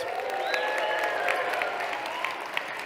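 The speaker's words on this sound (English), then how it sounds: "Please give them a big round of applause." An audience at a winter speaker series event applauds in a steady, full wash of clapping, with a few faint whistles or cheers rising over it early on.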